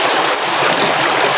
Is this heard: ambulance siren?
no